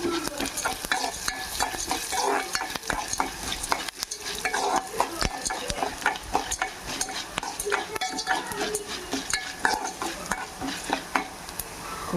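Coriander seeds dry-roasting in a pan for kothimeera karam podi, a steady gritty rattle and light sizzle with frequent scraping strokes of a spoon stirring against the metal, close and continuous with no talking.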